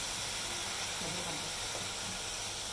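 Chicken fries in a pan with ginger garlic paste for a Pakistani-style achar gosht, giving a continuous, even sizzling hiss at close range.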